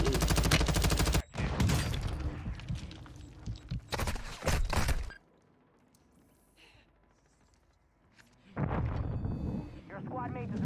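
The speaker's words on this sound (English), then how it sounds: "Taking effective fire." Loud bursts of rapid gunfire and explosive fire in a first-person shooter video game, several close volleys separated by a long quiet stretch where faint voices and distant sounds continue.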